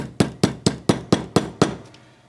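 A small brass hammer taps a crown tube into the case of an Invicta 8926 Pro Diver watch: seven sharp, evenly spaced metallic ticks, close and clear, each decaying quickly before the next.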